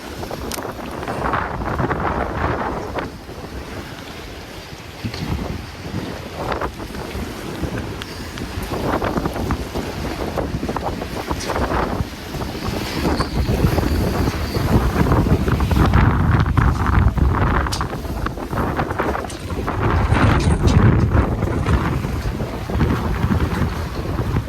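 A 50-knot storm wind roars across a marina full of boats, buffeting the microphone in loud, gusting surges that build and ease, with rattles and knocks from the moored boats and no speech.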